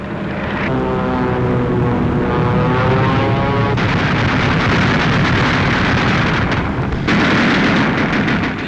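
Engines of WWII bomber aircraft roar in a loud, continuous wartime drone with a steady pulsing hum, shifting into a harsher, rougher roar partway through, with no voices.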